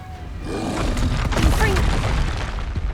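A Confringo blasting spell in Hogwarts Legacy bursts into a loud, booming explosion with a crackling, shattering roar that swells and fades over a few seconds.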